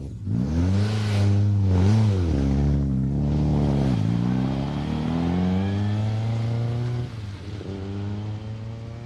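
A Ford Escort Mk II rally car, just fitted with fresh spark plugs on a North Wales rally stage, revs hard with loud rising and falling engine sweeps and then pulls away, close and steady throughout.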